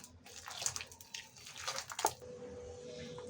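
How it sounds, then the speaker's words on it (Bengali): Palm fruit pulp squeezed by hand to draw out the juice, wet squelching and sloshing in short uneven bursts, close and fairly quiet. "তারপরে আমি হাতের সাহায্যে এভাবে এটা কুচলিয়ে কুচলিয়ে রসটা বের করে নেব"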